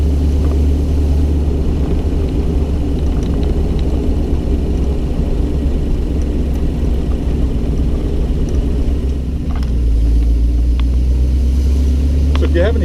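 An unrestored original 1932 Packard 903 convertible coupe on the move, its engine a continuous low rumble with road noise, steady and close, easing briefly near the end before pulling again.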